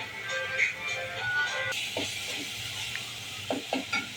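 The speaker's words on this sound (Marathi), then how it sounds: "ढवळून घेऊया आपण मसाला. मसाला जरा शिजू देते मी याच्यामध्ये." Homemade masala is stirred as it fries in oil in a pot for suka chicken, with a soft sizzle under short scraping strokes of a spoon, close up, with no voices.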